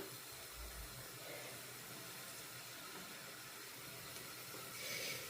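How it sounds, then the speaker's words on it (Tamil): Onions frying in a pan for Sri Lankan masi sambal give off a steady, soft sizzling hiss that stays fairly even throughout, with no voices. "அது வரையும் நாங்கள் இதை வெங்காயத்தை போட்டு பொறிச்செடுப்போம்"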